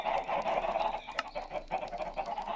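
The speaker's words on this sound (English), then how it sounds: "I launched a bunch of eggs and we got a bunch of chickens" A flock of video game chickens, hatched from launched eggs, clucks and squawks continuously, their overlapping calls layered close and fairly loud.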